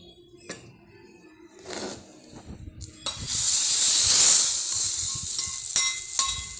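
Fried coconut spice paste tipped into a pot of mango dal curry, starting with a few soft clicks and rustles, then erupting into a loud, sustained hiss and sizzle that slowly eases.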